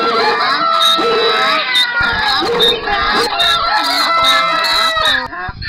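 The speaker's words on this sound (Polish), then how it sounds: "a kogut piał" Loud, chaotic animal noises overlap up close, with a rooster crowing among clucking and other barnyard cries.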